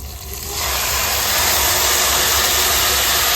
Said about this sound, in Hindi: उसी कटोरी से मैं 2 कटोरी उसमें गर्म पानी डालूंगी।